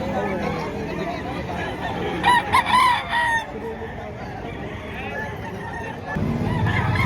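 Roosters crow and hens cluck at a poultry market in Padre Garcia, Batangas, several loud nearby crows rising over a steady murmur of crowd chatter and voices.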